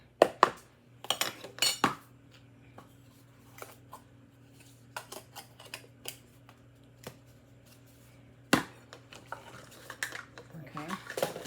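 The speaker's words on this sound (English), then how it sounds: "I'm going to stir this to get all that incorporated in there." A utensil scraping and clinking against a bowl while baking powder is stirred into a potato mixture, irregular taps and scrapes over a low steady kitchen hum, with a few louder knocks.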